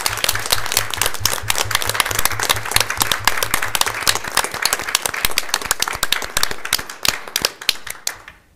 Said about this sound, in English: I think they deserve a round of applause for all that they do